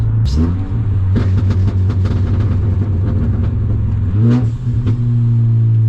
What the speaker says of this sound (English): We've got the blow-off valve, we've got the doo-doo-doo.